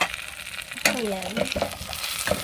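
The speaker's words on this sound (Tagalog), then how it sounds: "Haluin lang natin siya at ilalagay na natin yung kanyang toyo." Baby potatoes being braised and stirred in a pan on a portable gas stove, with a steady sizzle and scraping stirs throughout, fairly close.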